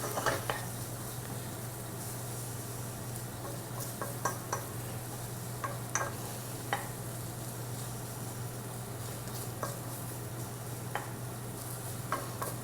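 Onions sizzle steadily in a hot pan as their natural sugars caramelize, a constant mid-level frying hiss with occasional soft ticks and stirring taps scattered throughout, no talk.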